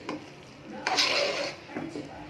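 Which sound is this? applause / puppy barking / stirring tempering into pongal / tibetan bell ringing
stirring tempering into pongal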